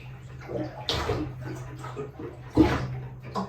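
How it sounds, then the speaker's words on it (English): Continuous churning water rushing under a trimaran's raised stern, with splashy surges, steady and fairly close, over a low droning hum. "The stern of the boat kind of comes up, and so there's just constantly water going."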